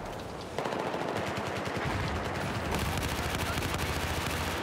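Rapid automatic gunfire from a shooter video game rattles continuously and loudly, a dense stream of shots that grows heavier after a brief quieter opening, without speech.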